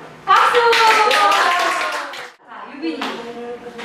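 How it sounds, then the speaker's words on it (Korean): Middle school students applaud together in a home economics classroom after a classmate shares a reflection, a burst of clapping mixed with voices, followed by a teacher speaking. "박수!"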